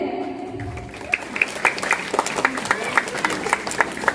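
Scattered hand claps from a small audience at a Kaliyaganj community gathering, sharp irregular smacks building over a steady murmur of crowd and room noise, fairly close.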